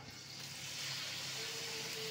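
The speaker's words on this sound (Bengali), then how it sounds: "ফ্রাই প্যানে তেল দিয়ে দিয়েছি, তেলটা গরম হয়ে গেছে। এবার এইভাবে একটা একটা করে ছাড়বো।" A dense, even sizzle of hot oil in a frying pan as pieces of batter are dropped in, filling the whole short moment, growing slightly louder at the end, with no talking.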